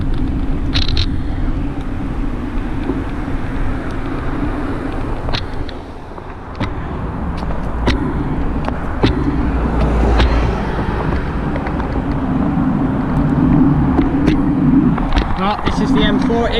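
Steady motorway traffic on the M40 roars from beside a cycle path, a continuous loud wash of passing vehicles with wind buffeting, while someone talks over it.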